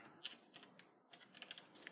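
Typing on a computer keyboard: a quiet cluster of light key clicks, irregular and fairly fast, with a short pause near one second and then a further burst, faint and alone.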